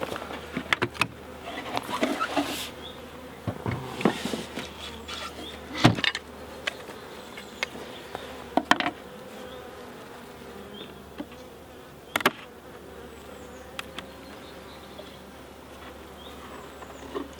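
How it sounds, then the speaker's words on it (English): Honey bees hum steadily in a dense buzzing drone inside a vandalised hive, with scattered knocks and clicks from handling close by. "there's a lot of bees in here, look."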